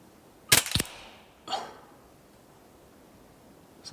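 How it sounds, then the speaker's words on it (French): Shots from a Hatsan Sortie semi-automatic air rifle fired at 20 metres with open sights, a sharp double crack near the start, a second softer shot about a second later and a faint click near the end, close and otherwise quiet. "Je tire doucement."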